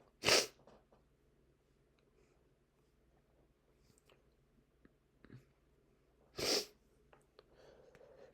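Two sharp, loud sneezes burst out several seconds apart, the first near the start and the second toward the end, with quiet breathing and faint small noises in between.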